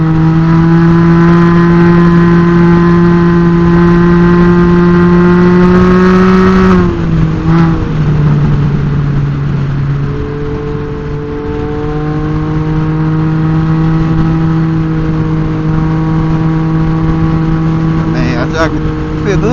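Can-Am Ryker 900 three-wheeler with modified intake and exhaust, engine droning loud and steady while riding, with a brief dip in revs around a gear change and then pulling again on a cold day.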